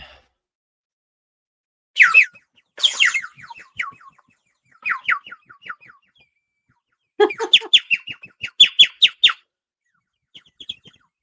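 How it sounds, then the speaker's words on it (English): A water-filled whistle warbles in short bursts of bubbling, trilling chirps, separated by pauses, close and fairly loud, like a bird call. "Sounds a little bit more like a bird, right?"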